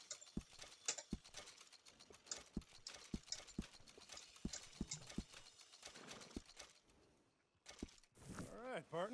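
Horse hooves clip-clop in Red Dead Redemption 2, a quick run of sharp, close hoof strikes in a steady walking rhythm, followed near the end by a brief whinny-like sweep and a voice.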